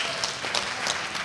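Audience applause at a talk on peace and climate justice, a brief steady wash of clapping from a crowd lasting about a second, with no speech over it.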